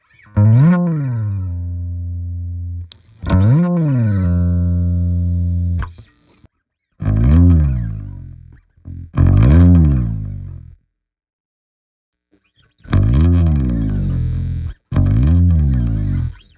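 Several sustained bass guitar notes sliding down the neck through a Keeley Compressor Pro pedal, each held at an even, compressed level before cutting off, separated by short silences; hum and noise from a cheap bass in the gaps.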